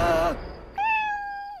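A cartoon kitten gives two short, high meows close up, the first slightly wavering and the second longer and steadier, with no other sound around them.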